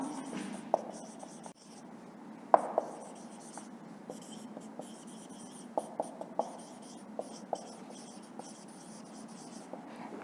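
A teacher writes out a homework question in a social studies class, a steady, soft scratching of chalk or pen with scattered sharper taps over about ten seconds, close and alone with no voices.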